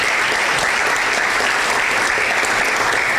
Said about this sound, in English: Let's give the Most High a round of applause.